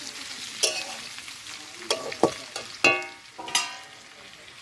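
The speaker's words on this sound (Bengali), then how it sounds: "শুকনো লঙ্কা কালো জিরে দিয়ে আলু কচু আলু তুলে দিয়ে ভালো করে ভেজে নিচ্ছি।" Potatoes and taro fry in a pan with dry chillies and nigella seeds, a soft steady sizzle broken by several sharp scraping stirs and clinks of a spatula, close and fairly quiet.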